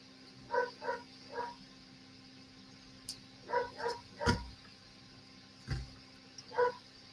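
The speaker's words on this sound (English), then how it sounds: "oh my goodness, those dogs." Dogs bark somewhere nearby in a series of separate yaps spread over several seconds, some in quick pairs, moderately loud over a low steady hum, with a couple of sharp knocks in between and no talking.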